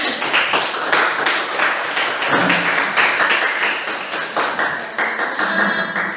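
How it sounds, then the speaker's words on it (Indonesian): Students in a classroom applaud after a group presentation, a steady burst of brisk, close hand clapping that runs throughout with no talking. "tepuk tangan"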